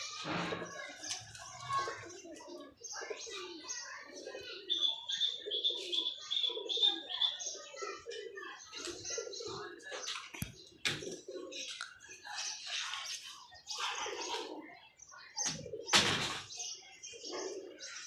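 Pigeons coo and flutter in a loft, soft calls and wingbeats scattered through the scene while people talk nearby.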